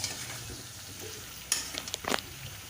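Pumpkin and potato pieces being stir-fried in oil, with a close, steady sizzle and a few sharp scraping strokes of the spatula near the end. No voices.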